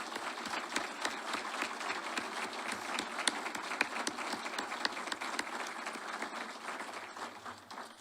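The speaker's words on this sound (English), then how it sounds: "please join me in a round of applause for all of our distinguished guests" A room applauds distinguished guests at a military promotion ceremony, a dense, continuous patter of many hands clapping at moderate volume that tapers off slightly at the close.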